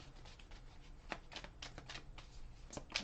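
Tarot cards shuffled by hand during a card reading, a run of crisp riffling and flicking bursts with soft slaps, close and fairly quiet, with no voice over them.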